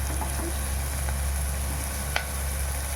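Food sautéing with salt in a pan for a ridge gourd rava upma, a steady close sizzle and hiss that carries on evenly, with a single faint tap partway through and no voices.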